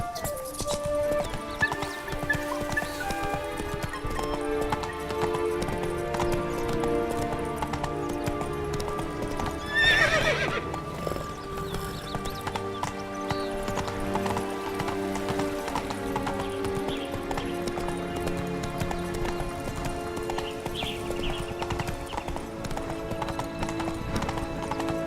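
Roach, a horse in The Witcher 3 video game, gallops with a steady, rapid clip-clop of hooves throughout, and a loud whinny breaks out near the middle over a layer of game music.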